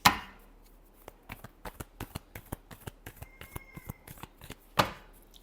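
A deck of tarot cards being shuffled by hand, a quick series of crisp riffling slaps and snaps in an irregular rhythm, close and fairly quiet, framed by a sharper card strike at the start and near the end.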